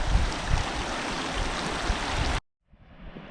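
Water runs across a high mountain road on Blanca Peak as a steady rushing, streamlike wash. It is loud and continuous, then cuts out abruptly and returns faintly.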